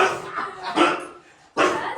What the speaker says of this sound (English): We're just going to get a visit from Millie, the dog.